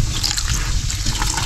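Water pours in a steady close gush into a cooking dish made with vinegar, a continuous splashing stream that lasts the whole moment.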